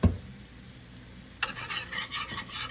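Garlic drops into a hot skillet of softened onions with a loud sizzle that rises sharply after a quiet start, then keeps crackling and hissing steadily with light stirring, close up and with no talk.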